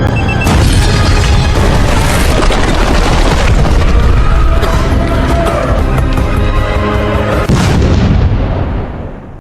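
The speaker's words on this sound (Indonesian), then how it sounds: "Evelyn yang sudah berada tepat di bawah podium tempat Presiden Rusia berpidato langsung menempelkan sebuah bom hingga inilah yang terjadi" A bomb goes off under a podium where a Russian president is speaking in the film Salt, a loud sustained blast with rumbling booms and crackling debris that fades out at the end.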